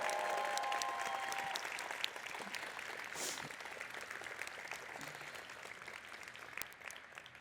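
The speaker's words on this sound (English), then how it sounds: "let's give them a round of applause" An audience at a Python community awards presentation claps in sustained applause that starts full and slowly fades, many hands at once with a faint voice underneath.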